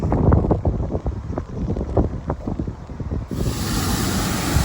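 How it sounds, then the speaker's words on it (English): Water gushes from the bottom gates of a canal lock, a loud, continuous rushing surge that swells into a broad, steady roar partway through, mixed with wind buffeting the microphone. "So much water coming out of the bottom gates."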